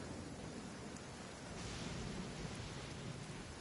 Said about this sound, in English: It's raining, it's pouring, the Ningguang ain't snoring.